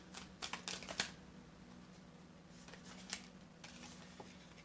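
Tarot cards being shuffled and drawn, a quick burst of close riffling and flicking followed by softer scattered card snaps and slides, quiet and without talk.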